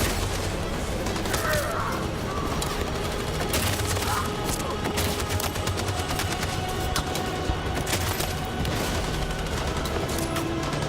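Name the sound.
machine gun fire in video game Detroit: Become Human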